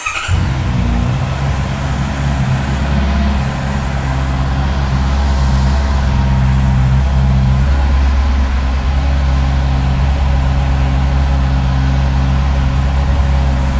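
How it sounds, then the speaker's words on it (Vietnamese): A 2022 Honda CB650R motorcycle with a stock exhaust idles steadily close by, a smooth continuous engine hum with no revving and no talk. "Đấy, nổ máy nhẹ một cái nè."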